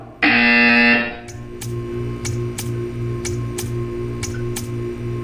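A harsh electronic buzzer in the video game Portal 2 blares for about a second, followed by a steady ticking countdown over a low hum.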